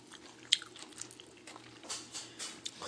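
Someone eats kao poon, a Lao rice noodle dish, with close, soft chewing and a sharp bite near the start, followed by quiet wet mastication alone.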